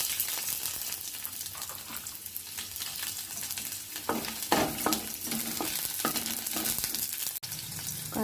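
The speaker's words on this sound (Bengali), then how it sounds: "এবার রসুনগুলো ভেজে নেব" Garlic frying in a pan, a continuous bright sizzle broken by several distinct spoon scrapes and stirs, close and fairly loud.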